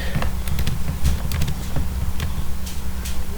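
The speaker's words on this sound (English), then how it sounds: "I am just typing some Hindi words" Computer keyboard typing while Hindi words are entered, a loud close run of quick irregular key clicks over a low steady hum, with no talking.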